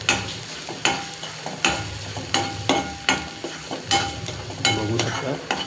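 An onion mixture with coriander powder and turmeric frying in a pan for whole masoor dal, stirred in repeated scraping strokes roughly every second over a steady close sizzle.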